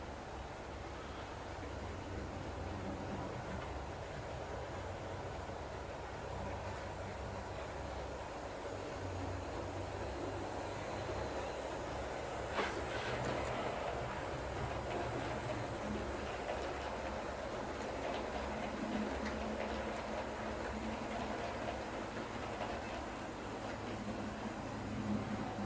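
A 50-year-old model train locomotive, run on an H&M Safety Minor controller, makes a fast run-by on its track, giving a steady mechanical rumble and rail hum that swells slightly near the middle and holds without any voices.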